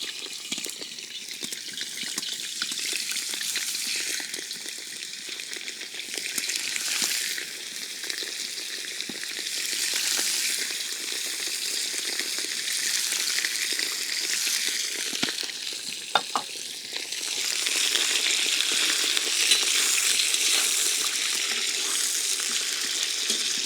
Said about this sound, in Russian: Аккуратненько по стеночке отправляем мясо в масло.